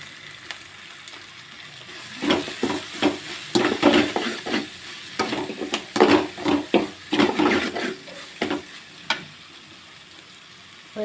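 Egg rice with spices is stirred and fried in a pan, a constant sizzle broken by repeated scraping, knocking spatula strokes in an irregular rhythm, close and fairly loud.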